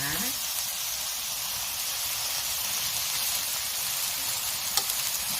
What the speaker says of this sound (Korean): 네, 이렇게 익을 때까지 볶아줍니다.